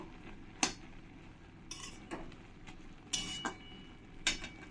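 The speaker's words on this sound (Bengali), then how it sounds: "এবার শাকের ঢাকনাটাকে আমি তুলে দেব দিয়ে একবার ভালো করে নাড়িয়ে দেবো" A lid is lifted off a pan of jute leaves and the greens are stirred, heard as a few sharp metallic clinks and knocks spaced over a quiet background.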